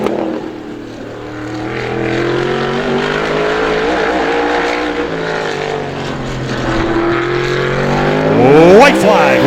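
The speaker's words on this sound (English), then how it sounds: "A final car to time trial" A race car running a time trial lap at Star Speedway, an ISMA event, roars steadily past with a sustained engine drone and a pitch sweep near the end as it passes close, while an announcer speaks over it.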